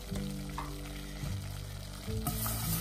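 Sautéing in a pan while making a béchamel sauce with parmesan and mustard, a steady close sizzle with spoon scrapes, low tonal hum running beneath and a brighter burst near the end.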